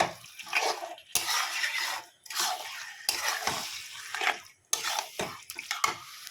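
Spiced chicken pieces being stirred and fried in a pan for chicken kosha, giving bursts of broadband scraping and sizzle in several strokes, fairly close, with brief pauses between them and no talk.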